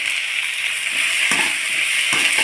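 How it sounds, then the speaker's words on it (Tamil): Country tomatoes sauté in a pan for kadamba chutney, giving a steady, close sizzle with a few brief stirring scrapes and no talk. "இதையும் நல்லா வதக்கி விடுங்க"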